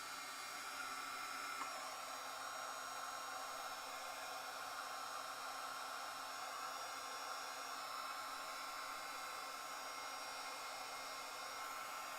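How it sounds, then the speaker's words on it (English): A heat gun blows steadily while drying a craft project, giving a constant, even whooshing hiss that lasts the whole time at low volume with no voices. "I hope the gun is not driving everybody insane."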